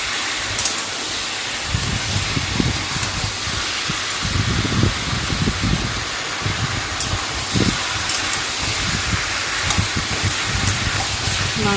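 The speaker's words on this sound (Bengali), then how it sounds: "তো আমি ভালো করে এটা কষিয়ে নিচ্ছি পেঁয়াজ ক্যাপসিকাম আর" Chicken sautéing with onion, capsicum and garlic gives a steady hiss with close, uneven bursts of sizzle and the occasional clatter of stirring throughout.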